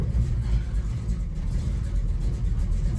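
A 1973 Dodge Charger with a 440 big block engine idling after being dropped in gear, a deep, steady, loping rumble that stays loud and close throughout with slight rhythmic pulsing and no talking.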